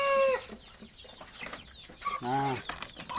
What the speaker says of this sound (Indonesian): sekarang kita tunjukkan ini bagaimana reaksi ayam kita dengan racikan pakan kita tadi ini